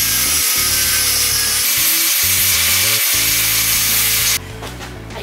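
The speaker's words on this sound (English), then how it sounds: "I just need to grind off the rust so it will weld easier" Rust being ground off metal motorbike parts before welding, a loud, continuous high-pitched grinder whine with shifting tone as it bites, close up, then cutting out abruptly near the end.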